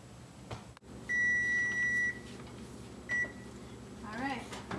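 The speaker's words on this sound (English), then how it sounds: "we'll just set the timer again" Oven timer on a kitchen oven being set during pizza baking: a long sustained electronic beep followed by a short second beep, with a clunk and speech nearby.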